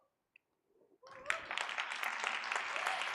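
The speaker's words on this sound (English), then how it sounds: "let's give her a big round of applause." Audience at a leadership summit breaking into applause after near silence, a dense, steady clapping that swells quickly and continues for a couple of seconds.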